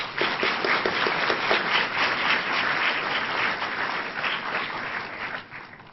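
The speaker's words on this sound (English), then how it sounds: "Let's give all of them a big round of applause." Lecture audience breaks into sustained applause, a dense, steady wash of many hands clapping that holds for several seconds before tapering off near the end.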